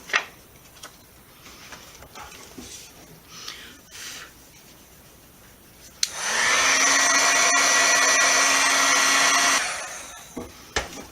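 A heat tool blasts steadily for about three and a half seconds, melting red embossing powder on a Valentine's card, a loud even whir with a motor hum that stops abruptly, after scattered quiet handling noises.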